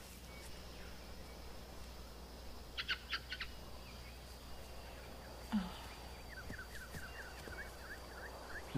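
A bird calls in a dubbed animated adventure series: a brief cluster of sharp notes, then a quick run of repeated chirps near the end, over a low ambient hum.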